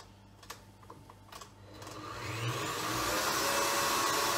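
An electric mixer whips cold heavy cream for a mille-feuille, a steady mechanical whir that starts low and rises into a loud, continuous high-pitched drone, with a few light taps at the start.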